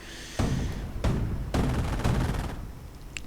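Bursts of gunfire in a real-time strategy skirmish, with several dense volleys of shots and booms coming in waves, loud and close, fading toward the end.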